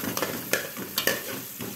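Chopped onion browning in a frying pan for a fish-in-sauce dish, a close sizzle broken by several sharp scraping stirs of a utensil against the pan.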